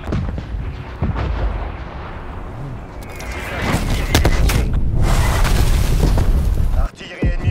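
Enemy artillery barrage in the video game Call of Duty Cold War: repeated booming impacts and explosions crash in succession, growing louder and denser toward the end with rumbling aftermath, over a busy battle soundscape.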